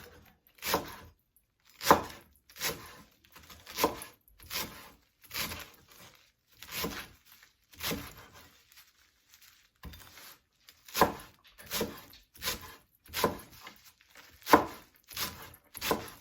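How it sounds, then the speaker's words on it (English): A knife chops food on a cutting board in bursts of quick, sharp taps, with a short pause partway through. "I already cut the stems off, and I'm just chopping this up."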